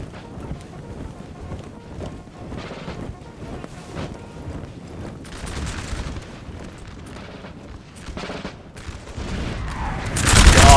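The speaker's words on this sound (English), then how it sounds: "Artillery blitzing through these poor infantry here." Artillery firing canister into infantry in the Napoleon Total War video game: scattered booms and crackling volleys rumble through a busy battle din, building louder toward the end.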